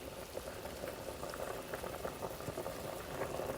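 Spinach fettuccine boils in a pot of water, making a continuous bubbling roil that stays steady and close throughout, with no voices.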